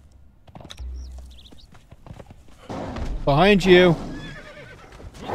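Horse from Conan Exiles whinnying loudly near the middle, a rising and falling neigh, with hoof clops and scattered game thumps around it; someone speaks briefly.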